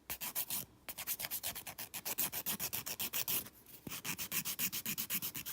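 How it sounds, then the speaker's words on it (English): Rapid, rhythmic buffing strokes as a file scuffs the top coat off gel nail polish, a close, soft rasping rub repeated in quick even bursts with brief pauses, no talk. "You will only be buffing away the top coat, so don't worry."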